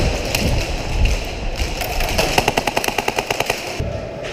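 Airsoft guns fire during a match, a rapid burst of about a dozen sharp shots in steady rhythm over an outdoor background rumble, with a few scattered pops before it.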